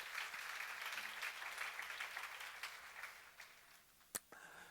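A congregation at a church seminar on the Psalms claps together. Quiet, steady applause from many hands slowly fades, ending in a sharp knock or tap near the end.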